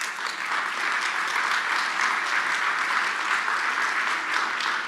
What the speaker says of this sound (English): all of you are clapping because you know why